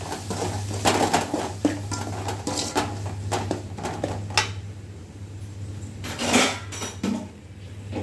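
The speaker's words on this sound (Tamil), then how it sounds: "உருளைக்கிழங்க இப்படி மசிச்சுக்கிறோம்" Repeated clattering and scraping of a utensil mashing boiled potatoes in a metal pan, steady and close, with a low hum underneath and no talking.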